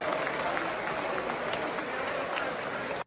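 Applause in parliament during a session on a NABU and SAPO anti-corruption bill, with a dense crowd of clapping hands filling the chamber steadily for about three seconds before cutting off abruptly.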